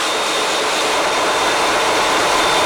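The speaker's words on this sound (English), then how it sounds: "These now are the engines, main engines." Main engines of a cruise ship running in the engine room, a loud, dense, continuous broadband roar with a faint steady high whine, no voices.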